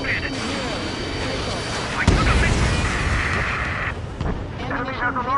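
A missile explodes in a jet combat video game, a sharp blast cutting through steady engine roar midway, with radio chatter and voices heard over the action.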